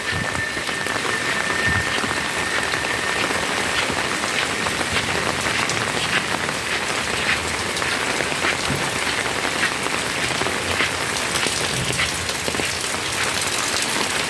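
Steady rain falls continuously close by, a dense hiss of drops on surfaces that swells and eases slightly over time, with no one speaking.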